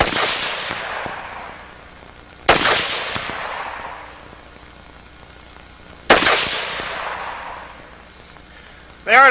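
A Walther WA 2000 self-loading rifle in .300 Win Mag fires 200-grain Sierra MatchKing handloads: three loud, sharp shots spaced a few seconds apart, each ringing off in a long decaying echo, with a fourth starting right at the end.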